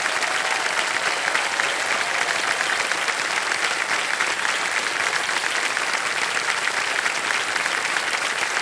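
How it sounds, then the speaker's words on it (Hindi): Studio audience applauding a contestant on the game show Kaun Banega Crorepati, loud and steady dense clapping that fills the whole stretch without pause. "तालियां बज जाए"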